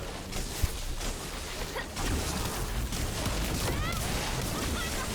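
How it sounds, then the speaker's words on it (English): Dense, continuous explosions and crackling blasts from Bunny's Electric Condense ability in The First Descendant, loud and chaotic with rapid bursts layered under game effects, and talking mixed in faintly. "I love the boom and the explosions from the condense."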